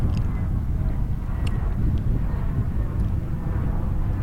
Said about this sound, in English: You hear the airplane there.